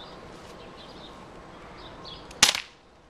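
One sharp, sudden crack from a Colt Defender BB pistol stands out over a quiet room, followed by a short rattling tail.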